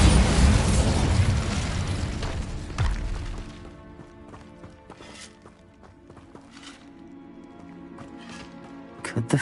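A Bombarda explosion spell goes off in the Hogwarts Legacy video game as a loud, booming blast that rumbles and fades. Sharper pops and footsteps follow over a lower game background.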